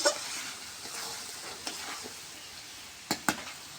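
Potatoes, pointed gourd and jackfruit seeds sauté in a pan with a steady soft sizzle, broken by a few sharp scraping stirs near the end, close and quiet.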